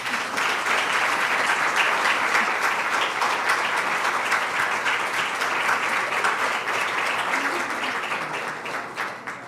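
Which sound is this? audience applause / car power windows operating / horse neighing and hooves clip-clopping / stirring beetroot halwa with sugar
audience applause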